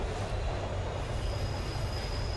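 A train rides on rails in the video game Train 113, making a steady close rumble with a thin, faint high squeal running throughout.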